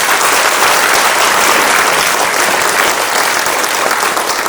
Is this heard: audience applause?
yes